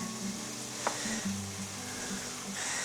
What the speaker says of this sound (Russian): Дадим курице и луку сейчас пережариться немного